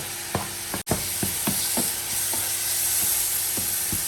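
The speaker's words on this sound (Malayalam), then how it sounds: "അപ്പോൾ ഏലക്കയും ജീരകവും പൊടിച്ച് വെച്ച് നമ്മൾ ആഡ് ചെയ്യുകയാണ്. എന്നിട്ട് നന്നായിട്ടൊന്ന് മിക്സ് ചെയ്യുക." Puff pastry filling being stirred in a pan with ground cardamom and cumin, a steady sizzle broken by repeated soft scraping strokes, close and alone.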